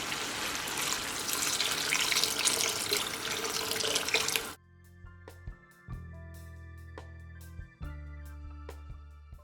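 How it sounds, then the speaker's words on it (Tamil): Water pours in a steady broadband rush into a pan of murungakkai puli kuzhambu for several seconds, then stops abruptly, followed by a few scattered clinks and soft thuds of cookware. "இப்போ குழம்புக்கு தேவையான அளவு தண்ணி ஊற்றிக்கோங்க"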